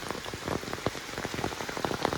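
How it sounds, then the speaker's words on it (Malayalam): Heavy rain pours down steadily, a dense close wash of drops drumming on surfaces, rising and easing slightly without pause. "മഴ കൂടുകയും കുറയുകയും ചെയ്തുകൊണ്ടിരിക്കും കേട്ടോ."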